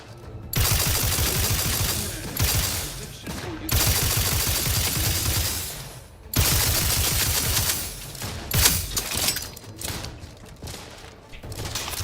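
Turret gunfire from the video game The Outer Worlds 2 comes in loud, rapid automatic bursts of several seconds each, separated by short pauses, with thuds and mechanical clatter mixed in.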